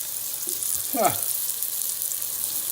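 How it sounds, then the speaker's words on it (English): A thin dollar store pork chop sizzles in a pan, giving a steady, close frying hiss throughout with a brief louder flare near the middle. "hear that sizzling?"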